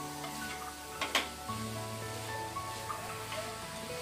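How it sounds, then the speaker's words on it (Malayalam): Chopped cabbage sizzles softly in a hot pan as it is stirred, with a couple of sharp spatula scrapes against the pan over a steady low hiss and faint background hum. "നന്നായിട്ട് ക്യാബേജും ഇതിലേക്ക് മിക്സ് ചെയ്തതിന് ശേഷം നന്നാക്കി ഇളക്കുക"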